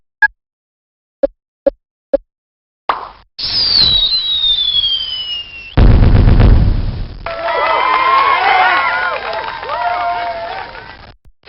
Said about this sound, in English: You're making beautiful fireworks!